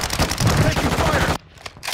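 Dense, continuous gunfire in an online shooter video game, a loud sustained roar of rapid shots that cuts off abruptly near the end, leaving a few quieter sounds.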